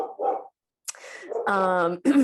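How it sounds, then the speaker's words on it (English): Pet dogs bark and yip in the background of an indoor room, with short bursts between quiet gaps and a whining, drawn-out bark near the end, while a person talks. "Ignore my dogs barking in the background."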